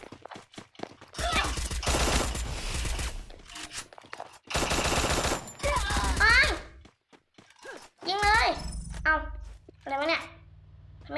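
Gunfire in the video game Garena Free Fire comes in several loud, rapid machine-gun bursts separated by short pauses, with people, including a child, talking between and over the shots.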